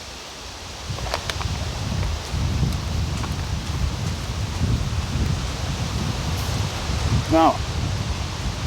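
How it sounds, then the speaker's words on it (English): Wind gusts through leaves at an outdoor hammock camp beside a wood-fired grill, a continuous broadband rustle with soft surges, and a brief voice near the start. "the wind is picking up"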